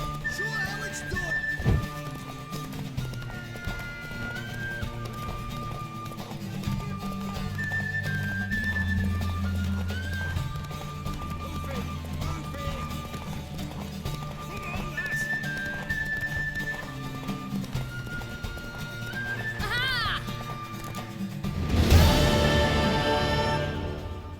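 A horse in The Witcher 3: Wild Hunt gallops with rhythmic hoofbeats under game music and faint voices, then gives a loud, close whinny near the end.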